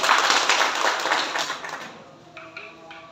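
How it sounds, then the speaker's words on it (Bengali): A burst of loud clapping from an audience in a lecture hall, dense and energetic for about two seconds before dying away into a few scattered claps. "এই ওনার জন্য একটা জোরে হাততালি দেন সবাই"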